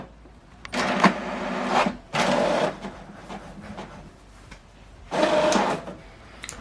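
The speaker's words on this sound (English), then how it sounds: "Document is printing." An HP Deskjet 2800e inkjet printer running a print job: three mechanical bursts of whirring carriage and paper feed, each lasting about a second, separated by quieter pauses, close and fairly loud.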